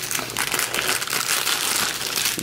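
Plastic shrink wrap for sneakers crinkles and crackles steadily as it is pulled out, close to the microphone and continuous for the whole stretch with no talking.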